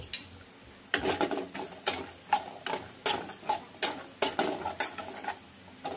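Mustard seeds, cumin and peanuts frying in oil in a pan, steady close crackling with a repeated rhythmic scrape and clatter of a spoon stirring against the pan.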